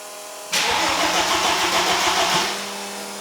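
An Audi on a dyno cranks and fires, a loud sudden catch followed by a resonant starter-driven roar that settles toward idle after a couple of seconds.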